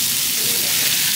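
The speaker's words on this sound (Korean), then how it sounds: "자 이제 이렇게 볶아요" Food stir-frying in a pan gives a steady, close hiss and sizzle that runs evenly through the short stretch.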